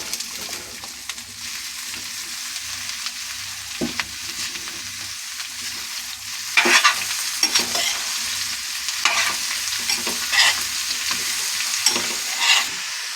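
Bottle gourd pieces frying with softened onions in a pan, a close, steady sizzle punctuated by scraping stirs and utensil clinks that grow louder midway through.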